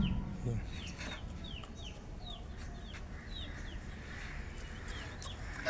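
An Aseel rooster gives soft, repeated clucks at a moderate distance over a faint, noisy outdoor background.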